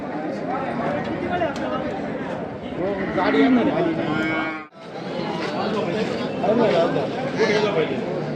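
Bulls and cattle moo at the crowded Chakan cattle market, with several calls rising over constant talk from nearby people.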